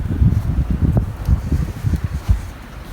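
Gusty wind buffets the microphone outdoors on a brisk day beside a 2018 Nissan Pathfinder SL, a low rumbling roar that swells and dips in uneven bursts, with no talking.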